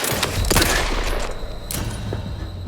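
Gunfire in The Outer Worlds 2 aimed at an enemy's head: a couple of close, sharp shots with echoing tails, the second after a short pause, loud and without speech.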